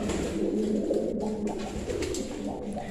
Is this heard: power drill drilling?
no